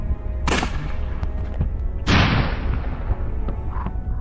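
Gunfire in the video game Unavowed: two loud, sharp bursts about a second and a half apart, each trailing off, over a low, steady background rumble.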